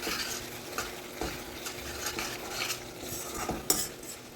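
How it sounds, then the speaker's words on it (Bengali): Turmeric, coriander and chili powder sauté together with salt in a pan, a quiet sizzle broken by repeated spatula stirring and scraping strokes, with no talking. "এখন সমস্ত কিছুকে একসাথে খুব ভালো করে কষে নিতে হবে"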